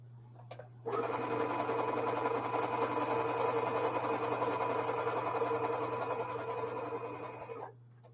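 A sewing machine runs steadily for about seven seconds, stitching paired quilt fabrics along the diagonal to form mountain-peak zigzag blocks; a close, continuous mechanical whir that starts abruptly and stops at the end.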